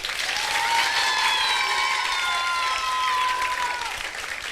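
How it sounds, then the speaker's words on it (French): Loud, sustained applause from an audience at a 1983 comedy stage show in Réunion. It fills the whole stretch evenly, with high whistle-like tones riding over the clapping. "que je vous demande d'applaudir très, très, très, très fort"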